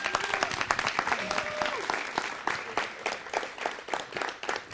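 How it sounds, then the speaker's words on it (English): An audience at a city council meeting applauds an honoree being presented with an award, a sustained round of clapping from a modest crowd in a hall, moderately loud and even throughout. "Casina, let's give her a round of applause."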